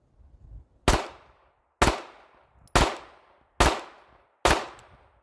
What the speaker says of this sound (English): I'm going to fire the gun as traditionally as I can